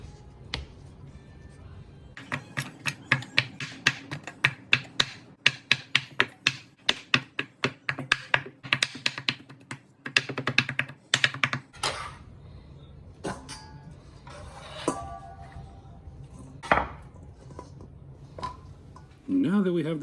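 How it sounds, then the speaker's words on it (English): A knife chops through cooked brisket on a board for a Las Vegas brisket mac and cheese, giving a long run of rapid, sharp, evenly spaced knocks that later slow into scattered cuts, with brief speech near the end. "I'm going to cut it up into some slices and then we'll chop it up."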